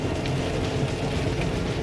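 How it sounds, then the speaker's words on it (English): Heavy, torrential rain hammers down in one continuous, loud wash of noise, filling the whole stretch without any talking, on a drive north from Hamburg. "The rain is torrential"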